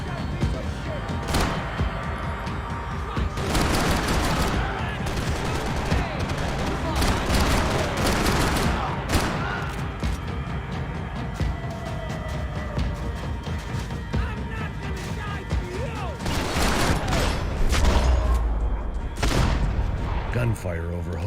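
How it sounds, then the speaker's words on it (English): Sustained rapid gunfire and heavy bursts of shots in the video game Max Payne 3 fill the whole stretch, loud and dense, with a voice occasionally talking underneath. "Gunfire over Hoboken."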